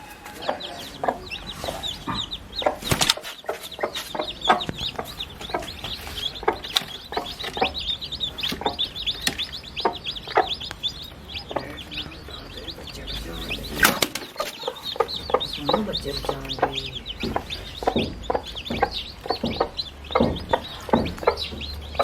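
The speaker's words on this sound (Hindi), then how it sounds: "मुर्गी ज़्यादा फड़फड़ा रही है।" A hen clucks repeatedly and flaps her wings near newly hatched chicks, with busy, close farmyard fowl sounds running throughout and two sharp bursts of wing flapping.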